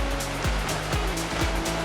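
A clean stream runs past rest huts built by Orang Asli villagers, giving a steady, rushing wash of water that holds even for the whole stretch, with a low rumble and faint periodic thumps beneath.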